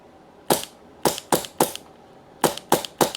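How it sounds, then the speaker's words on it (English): Full-auto shots fired through a new carbon suppressor ring out as sharp, close cracks: a burst of four, a pause, then a burst of three. "Let's have a little full auto blast."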